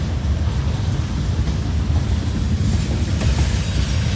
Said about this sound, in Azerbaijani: 33 dəfədən sonra qatarı gördük.